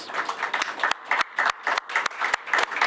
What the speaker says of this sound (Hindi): मैं चाहूँगा कि साहिल मक्कड़ जी के लिए हम तालियां बजाएं प्लीज़